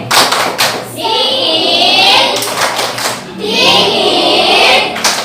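A class of schoolchildren performs an ice-cream clapping chant, with two bursts of rhythmic clapping and chanted voices, each lasting about a second and a half, separated by a short pause.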